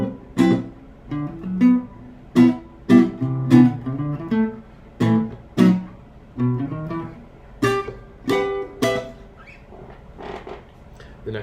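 Jazz melody embellished with passing notes and chord tensions, played as a sequence of plucked or struck notes and chords with varied rhythm, moderately loud and alone, fading softer toward the end.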